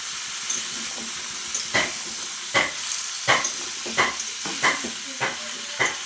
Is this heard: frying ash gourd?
yes